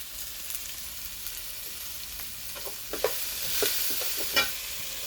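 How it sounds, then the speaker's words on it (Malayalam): Beef liver with pepper is being sautéed in a pan, with quiet stirring scrapes and a faint, steady sizzle that builds slightly in the second half, a few louder utensil clinks near the end. "ഇത് നല്ലപോലെ വഴറ്റിയെടുക്കുക"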